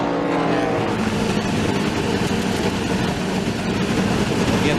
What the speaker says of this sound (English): You can hear it almost, it don't even sound like it's running on 8 cylinders